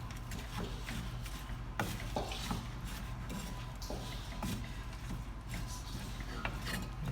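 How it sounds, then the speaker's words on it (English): A spoon scrapes and rubs through a stuffing mixture for baked stuffed tomatoes in a bowl, giving repeated soft rasping strokes with occasional sharper knocks against the bowl, close by over a low background hum. "I'll stir this all in together."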